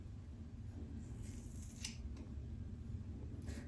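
Scissors snip through hair in a few faint, quick cuts over a steady low background hum, with no talking.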